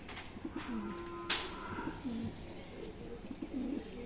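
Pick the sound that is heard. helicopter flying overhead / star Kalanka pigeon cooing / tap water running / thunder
star Kalanka pigeon cooing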